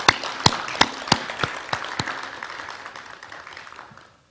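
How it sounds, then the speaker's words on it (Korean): At a tenth-anniversary ceremony for a cultural heritage care program, a group claps together in a sharp, evenly spaced rhythm of about eight beats. Scattered applause follows and fades to silence. "우리 다 같이 박수 한번 합시다"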